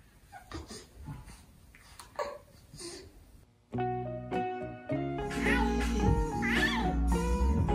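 A cat meows in short, breathy cries near a baby at home, followed by a sudden swell of music with babbling underneath.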